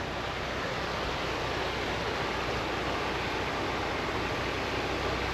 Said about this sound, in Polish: cała ta woda aż bombluje, paruje